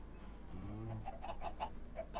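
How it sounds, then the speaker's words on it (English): Chickens in the Minecraft Feed The Beast mod pack give a run of short, repeated clucks, moderately loud and fairly close, over a steady low game-ambience hum with no talking. "It's somehow related to the chicken noise."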